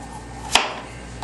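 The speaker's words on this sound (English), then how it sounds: "Now you're cutting up the potato." A single crisp knife strike chopping a potato into square pieces on a cutting board, followed by a much fainter second tap in a quiet kitchen.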